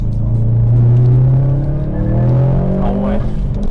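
A Subaru WRX STI with a stock 300-horsepower flat engine and a freed exhaust revs up loudly and close, its deep rumble climbing steadily in pitch, then settling.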